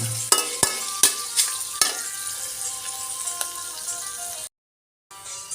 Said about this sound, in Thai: มันมากเลยผมเลยเอามาเจียวนะฮะทำเป็นกากหมู